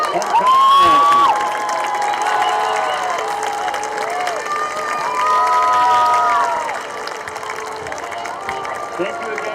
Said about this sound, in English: Please, one more round of applause for this year's homecoming royalty.